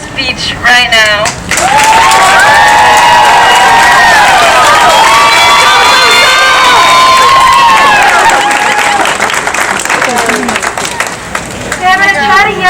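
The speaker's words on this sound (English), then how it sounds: "Please join me to welcome Zoe Seymour again to deliver her speech" A live audience of over 250 people claps and cheers loudly to welcome a speaker to the stage, a dense, sustained burst of applause with shouts and whistles that tapers off near the end.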